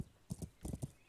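Horse hooves clip-clop in a galloping rhythm in the video game Kingdom Come: Deliverance, several quick uneven thuds in a short burst, faint and close, with no talk over them.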